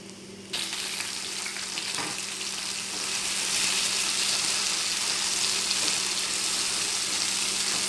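Chopped tomatoes drop into a pan of garlic and green chilies frying until golden, setting off a loud, steady hiss and sizzle that swells after the first moments and continues evenly.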